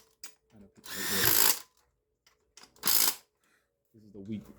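A weak impact gun works on a Honda Integra cylinder head during a head gasket job, firing in two loud, bursting runs of about a second each, separated by quiet gaps filled with small handling clicks.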